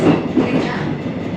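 Inside a moving Seoul Line 1 subway car in South Korea, a loud, steady rumble carries faint metallic rattling and clanking.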